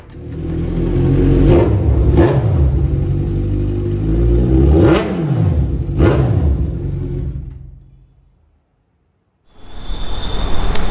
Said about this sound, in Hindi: तो निंजा 1000 का हमने साउंड सुन लिया